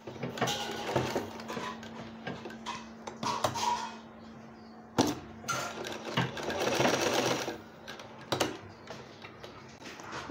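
A household sewing machine runs a straight stitch along a triangular section of a cloth langot diaper for a newborn, whirring in several close bursts with short pauses between them and a faint steady hum underneath.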